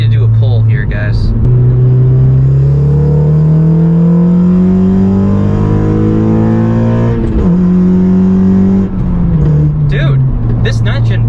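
A 9th-generation car being driven hard: a loud, close engine drone climbs steadily in pitch, drops sharply at a gear change, then climbs again before easing off.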